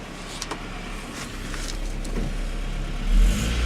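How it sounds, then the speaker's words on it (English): A 1997 Nissan truck engine idles with a low hum and a few light clicks, then revs up near the end in a brief swelling surge; no one speaks. "Try revving it up a few times."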